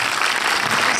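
An audience at a film premiere applauds, a dense, loud, continuous wash of clapping that fills the entire short moment.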